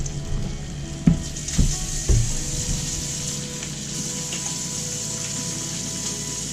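Chicken cutlets frying in a skillet for chicken piccata, a steady close sizzle throughout with a few soft knocks early on.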